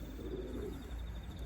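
A blue bar racing pigeon in a loft gives a faint, low cooing call under steady background hum, short and soft with no voices.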